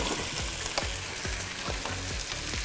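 Guinea fowl carcasses browning in a hot pan, a dense continuous sizzle and crackle of fat with repeated scraping strokes as the pieces are stirred, close and loud.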